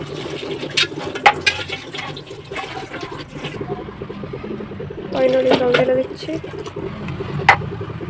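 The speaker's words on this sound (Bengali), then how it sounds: "এবার ফাইনালি জল ঢেলে দিচ্ছি" Water poured into a pot of meat curry, a steady close liquid pour with splashing that swells midway, over faint background clatter.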